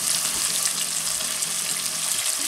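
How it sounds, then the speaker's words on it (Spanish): Beef sizzling in hot oil over high heat, a steady bright hiss and crackle close up that continues without pause, no voices over it. "vamos sofriendo la ternera a fuego fuerte"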